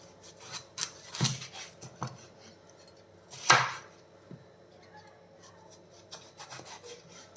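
A knife scrapes and cuts through a pumpkin to remove its seeds and skin, giving soft rubbing strokes and a few sharper scraping bursts, close and fairly quiet, with no talking.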